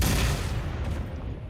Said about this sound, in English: the explosion and the firing sounds are different sounds